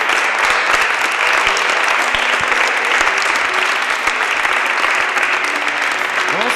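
Loud, continuous applause from an audience at an open choir evening as a priest is welcomed on stage. The clapping is dense and unbroken throughout, with faint tonal sounds underneath.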